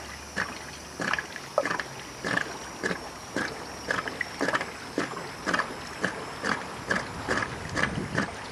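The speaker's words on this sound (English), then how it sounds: "let that drain out mostly. And it'll gurgle for a bit." After a backwash, a pool filter drains and gurgles in a steady series of short, rhythmic glugs about twice a second, close by and fairly quiet.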